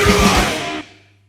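A grindcore song, a burst of distorted guitar, drums and shouted vocal lasting barely over a second before cutting off abruptly into a brief ring-out.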